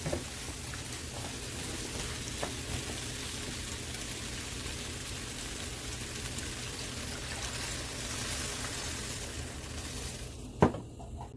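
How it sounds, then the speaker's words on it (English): Water pours steadily into a pot of curry potatoes and corned beef, a continuous close rushing trickle that runs throughout and ends with a single clink of the pot. "we're going to add some water and let the potatoes cook for about 7 to 8 minutes"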